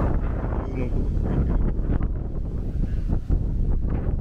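Strong wind gusting outdoors along Waikiki Beach Walk by the Hilton Hawaiian Village in Honolulu, Hawaii, buffeting the microphone with a loud, continuous low roar that persists throughout.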